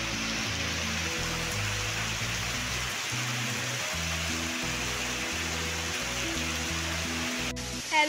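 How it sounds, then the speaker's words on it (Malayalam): Heavy rain pours steadily outdoors at a home on a morning with a Labrador retriever, a loud, continuous wash of noise with a low rhythmic hum beneath it and no talking. "ഇവിടെ നല്ല മഴയാണ്"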